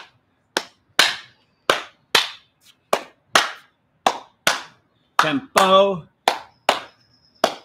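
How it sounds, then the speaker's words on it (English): Sharp hand claps in an energetic Parkinson's exercise class, a dozen crisp claps in a rhythmic tempo with brief pauses, close and loud, with a short spoken word and a sung note mixed in. "Clap with me."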